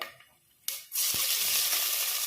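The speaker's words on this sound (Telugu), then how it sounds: "ఇప్పుడు సన్నగా కట్ చేసుకున్న ఉల్లిపాయ 1 తీసుకోవాలి." Thinly sliced onion dropped into hot oil with whole spices and bay leaf for a prawn biryani, bursting into a loud, steady broadband sizzle after a brief quiet moment, continuous and close with no talk.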